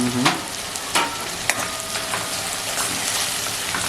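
Onion and tomato with salt cooking over a low gas flame, a steady close sizzle broken by a few sharp scrapes and knocks of a spoon stirring in the pan.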